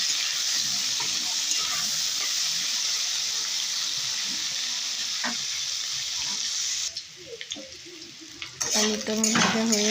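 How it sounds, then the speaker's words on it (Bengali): Potatoes fry in oil in a wok with a constant bright sizzle, while a utensil stirs and scrapes intermittently; the hiss drops away near the end, followed by clattering handling sounds. "আলুগুলো লাল লাল করে ভেজে নেব।"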